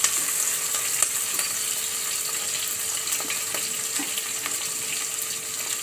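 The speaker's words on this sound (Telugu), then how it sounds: "ఆనియన్స్ కూడా వేసేసినాక ఒకసారి కలుపుకుందామండి. ఇవి కొంచెం ఫ్రై అవ్వాలి" Onions fry with a steady broadband sizzle in a pan, punctuated by light scraping as they are stirred, loud and close throughout with no talking.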